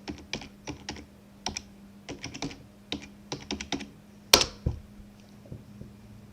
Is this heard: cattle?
no